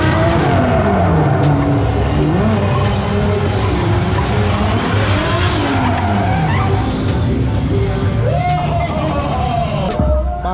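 A drifting car at a track session spins up loud, continuous tire squeal over a revving engine, the pitch sweeping up and down as it slides close by for the whole stretch.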